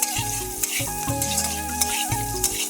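Green chili fries in hot salted oil in a pan for chow mein. A continuous, crackling sizzle sits over a steady humming tone, with no talking.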